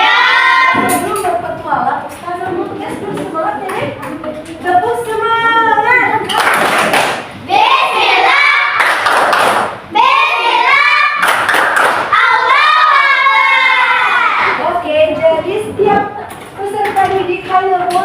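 A class of primary school children doing a rhythmic clapping chant for a teacher: loud patterned claps and thumps alternate with children's chanting voices in quick bursts, close and lively.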